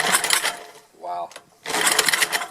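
Rebuilt Tecumseh Lawson HH 60 small engine sputtering briefly, pausing, then catching and running with a buzzy, rough drone, close and fairly loud.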